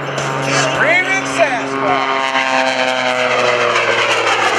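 The Jack Link's Screamin' Sasquatch Jet Waco biplane roars past at an airshow, a loud, close engine drone with a sweeping pitch shift as it goes by, with crowd voices mixed in.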